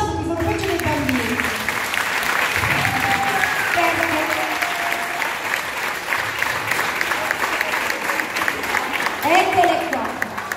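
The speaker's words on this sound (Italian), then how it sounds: "Venite e accogliete con un applauso" Audience applause at a school event welcoming the teachers, a steady wash of clapping mixed with crowd noise and voices talking over it throughout, with music-like tones weaving faintly underneath.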